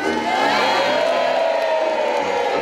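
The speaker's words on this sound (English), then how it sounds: "A cheer and a wave on a wet Monday morning" A crowd cheers and whoops outside the Stannah stairlift factory in Andover for Prince Charles on a wet Monday morning, a steady loud roar of voices that holds throughout.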